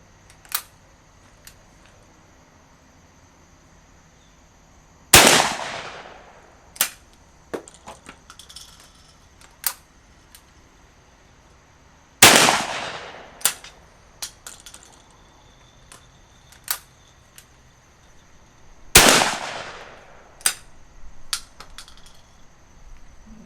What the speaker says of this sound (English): Now we'll put some buckshot on that other target.